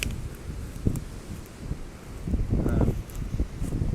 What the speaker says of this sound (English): It's just as windy here.